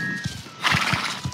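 Horses gallop in a Star Stable video game race, with rhythmic clip-clop hoofbeats and a loud, bright whinny breaking in partway through.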